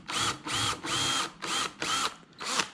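A power drill whirs in five short bursts, starting and stopping in a quick stuttering rhythm, close and fairly loud.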